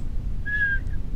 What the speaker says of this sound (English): Ooh, whistle.